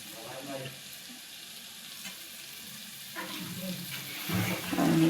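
Chopped tomato and coriander drop into a hot pan of dried-fish chutney, which sizzles and fries softly and then swells louder as the fresh ingredients land.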